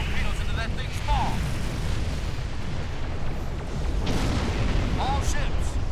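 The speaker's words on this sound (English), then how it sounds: "Fire torpedoes into that thing's maw." Torpedoes fired from a starship in the space combat game Star Trek Online, heavy booming bursts rumbling repeatedly over a dense, continuous roar of battle noise.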